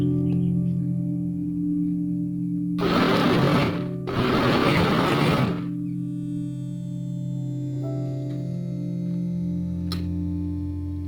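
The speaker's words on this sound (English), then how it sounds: "transfer the whole mixture into a blender and blend the leaves together with the habanero pepper" A kitchen blender whirring loudly in two short bursts, chopping jute leaves with habanero pepper, then stopping, with a steady electric hum in the background.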